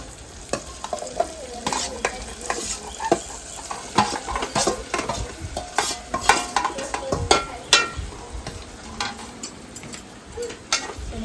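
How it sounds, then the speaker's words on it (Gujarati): Potatoes sizzle loudly in hot spiced tempering in a village kitchen, with repeated scraping stirs of a utensil against the pan and steady frying crackle throughout, no voices. "તો હાલો આપણે બટેટા નાખી દઈશું."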